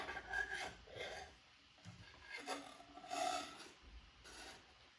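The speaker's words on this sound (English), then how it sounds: "So I'm about to scratch my back with something" Someone scratches their back with a long household object, making rough, rasping rubbing strokes that come in irregular bursts, close and fairly quiet. No speech.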